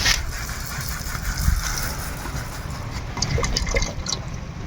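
White oil is poured into cake batter in a steady trickle, soft and close, running continuously for several seconds with small splashes and a faint low hum in the background.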